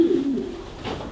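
A single pigeon gives a short, close coo inside a racing-pigeon breeding loft, a low throaty call at the start with a fainter second murmur near the end.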